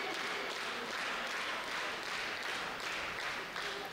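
A boxing crowd in Plovdiv applauds a local favourite with sustained, dense clapping and cheering that swells in waves, heard from within the hall and fairly distant overall.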